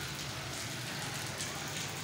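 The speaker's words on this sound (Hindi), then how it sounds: "और अभी भी जी बूंदाबांदी हो रही है" Light rain drizzles steadily outdoors after a day of heavy rainfall, a soft continuous hiss with faint patter and a low background rumble, no voices.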